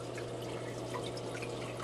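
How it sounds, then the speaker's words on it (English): Water in a reef tank trickles steadily across an algae scrubber panel, a constant close wash with a low hum running beneath. "See the water running across the bottom panel,"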